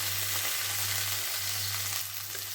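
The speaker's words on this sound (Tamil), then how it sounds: "வெங்காயமும் தக்காளியும் நல்லா வதங்கிடுச்சு." Onions and tomatoes sauté in a pan with garlic, giving a steady, close sizzle with a low hum beneath and faint stirring scrapes throughout.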